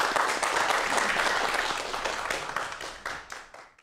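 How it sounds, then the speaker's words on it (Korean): A studio audience breaks into full applause for two guests after a talk on lifespan and aging, dense clapping that starts loud and gradually thins and fades toward the end. "오늘 함께해 주신 두 분에게 여러분 큰 박수 부탁드리겠습니다"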